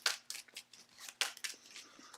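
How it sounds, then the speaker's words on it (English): Playing cards being shuffled during a tabletop card game, a run of quick papery riffles and crisp snaps, close and fairly quiet, with no talk. "then we're going to shuffle"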